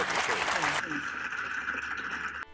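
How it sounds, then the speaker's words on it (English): An audience bursts into loud, dense clapping that stops abruptly after under a second, followed by indoor talk over a quiet room. "I've no idea why the audience are clapping."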